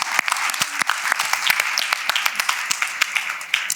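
Panel audience at a philanthropy summit claps, a moderate crowd with distinct individual hand claps audible within a steady, fairly close round of applause.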